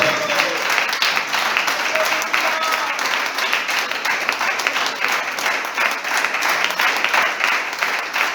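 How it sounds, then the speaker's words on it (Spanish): A church congregation breaks into strong, sustained applause during an evening service, a dense wash of many hands clapping at steady loudness throughout. "Dale un fuerte aplauso a Cristo en esta noche."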